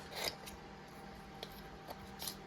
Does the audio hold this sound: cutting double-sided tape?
yes